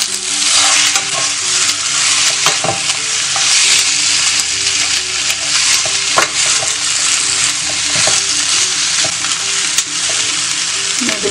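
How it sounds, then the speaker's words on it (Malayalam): Chicken sizzles loudly in a hot pan while a spoon stirs it with meat masala for a Kerala-style chicken roast. A constant frying hiss runs throughout, with occasional scraping and knocking taps of the utensil, and no voices. "അത് ഇട്ട് കൊടുത്തിട്ട് നന്നായിട്ടൊന്ന് ഇളക്കി കൊടുക്കാം"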